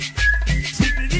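A short, bright melodic cumbia-style whistle, a few quick notes rising and falling, heard clearly with no talking.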